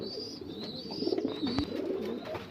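Pigeons and young squabs in a loft give short, low coos close by, a few rolling calls in quick succession.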